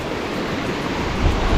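Strong water rushes continuously down from Mayon Volcano, a loud, dense roar with no breaks that swells slightly near the end, with wind buffeting the microphone.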